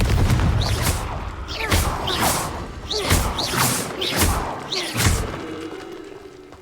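Repeated Confringo blasting spells in Hogwarts Legacy, about five whooshing bursts each ending in a thudding blast, spaced roughly a second apart and fading slightly toward the end.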